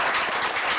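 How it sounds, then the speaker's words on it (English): Brief, steady applause fills a board meeting room, where people clap together to honour a new commissioner of the Board of Water and Power Commissioners. "So join me, please, in an applause for him."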